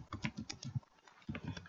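Quick bursts of typing on a computer keyboard, light close clicks in two short runs separated by a brief pause, fairly quiet with no talking.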